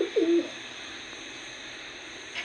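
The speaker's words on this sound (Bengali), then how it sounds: "অনেক সুন্দর এক জোড়া গোল্লা কবুতর" A Golla pigeon gives a short, soft coo right at the start, followed by a low, steady background hum.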